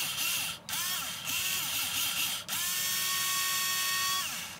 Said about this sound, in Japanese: 機械油つけるとちょっときつかったところもすんなりとネジ山を作ることができます。